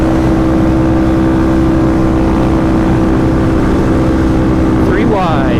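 A KTM 701 motorcycle engine cruises loud and close with a steady droning exhaust note, other bikes audible at a street riding event, with a rising pass near the end.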